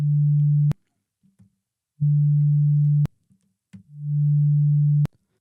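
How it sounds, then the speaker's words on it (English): Three sustained synthesizer tones set up with a slow attack, each swelling gradually toward full volume before holding steady and cutting off abruptly. A low, pure hum is separated by short gaps of near silence. "when you press the note, it will take longer for the note to hit its peak up here"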